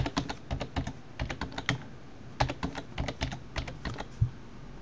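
A password is typed on a computer keyboard in quick bursts of crisp key clicks, clustered in uneven runs with brief pauses, close and fairly quiet with no talk.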